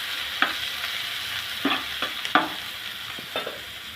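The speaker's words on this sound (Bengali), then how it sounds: "আমি এখন একই তেলে দিয়ে দিব পেঁয়াজ কুচি। পেঁয়াজটা আমি একটু লাল লাল করে ভেজে নিব।" Chopped onions frying in oil, a steady close sizzle punctuated by several sharp scraping strokes of stirring, with no speech.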